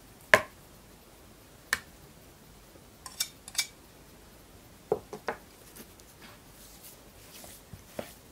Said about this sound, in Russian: И размешиваем творог.